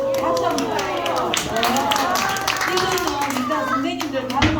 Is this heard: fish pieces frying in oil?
no